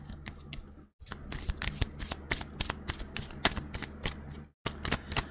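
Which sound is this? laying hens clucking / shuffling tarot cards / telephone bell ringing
shuffling tarot cards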